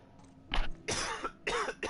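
A single hard cough breaks into a short run of harsh coughs and throat clearing, close to the microphone and fairly quiet, with no speech.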